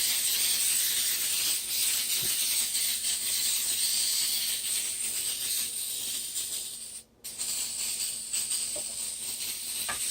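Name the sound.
coconut cooking spray being sprayed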